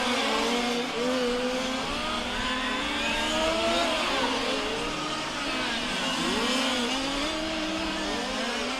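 Large-scale RC race car engine running on a track during a world championship final, a continuous high, buzzing whine rising and falling as the car accelerates and slows, steady and moderately loud with a faint second engine behind.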